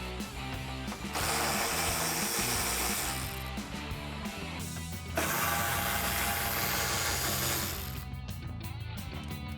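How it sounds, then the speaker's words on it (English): A 10mm socket works the headlight bolts loose on a 2005-2009 Mustang, giving a loud, steady mechanical whirring and ratcheting that surges a few times over several seconds, with no speech. "I'm just going to use my 10mm socket again to remove the 3 bolts that hold the headlight into place"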